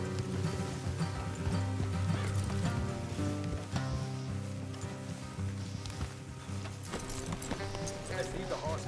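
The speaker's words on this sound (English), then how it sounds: "Let's leave the horses here and go the rest on foot." Horses clip-clopping along a road in Red Dead Redemption 2, steady hoofbeats under a bed of game music, with a brief whinny possible in the dense mix.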